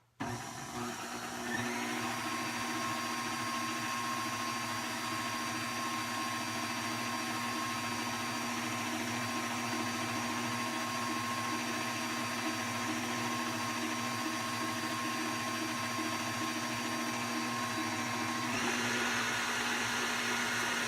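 A stand mixer with a dough hook kneading wheat bread dough runs as a steady, even motor whine with a constant hum, unchanged for about twenty seconds, without any speech.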